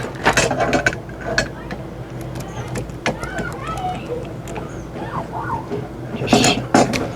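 Metal flare tool tightened by hand onto a damaged LP gas line, giving repeated close clicking and grinding turns in short bursts, with background noise and voices nearby.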